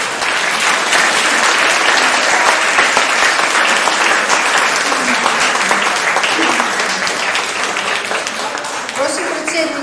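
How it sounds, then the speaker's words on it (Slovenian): An audience applauds the jury and high school poets at a poetry awards event, loud sustained clapping that fills the hall and tapers slightly near the end. "Prosim, aplavz za strokovno komisijo in srednješolske pesnike."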